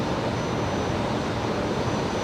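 An airliner on its takeoff roll from runway 19 right at Brisbane Airport in the evening, a steady broadband engine roar heard from a distance, uniform and unbroken for the whole stretch.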